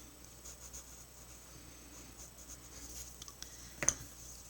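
Pencil coloring on paper, heard as a soft continuous scratching close to the listener, with a brief sharper tap near the end and no voice.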